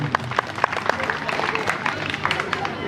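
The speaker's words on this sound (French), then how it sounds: "Vos applaudissements, s'il vous plaît." An audience at a school cultural day in Golmy applauds with many overlapping claps forming a steady, dense round, moderately close, with crowd murmur and voices mixed underneath.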